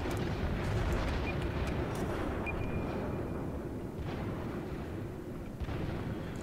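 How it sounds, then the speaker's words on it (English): Small secondary cannons on a warship firing in the World of Warships naval battle game, heard as a dense, continuous low rumble of overlapping booms at steady loudness, with no voices. "I think that's my own small cannons firing at him."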